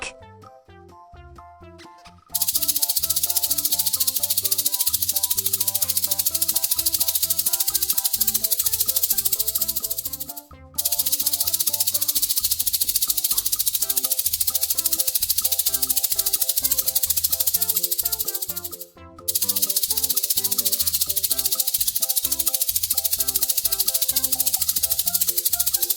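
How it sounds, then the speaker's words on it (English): A snake's rattle buzzes as a loud, continuous dry hiss, broken by two brief pauses, with no voices over it. "Snake."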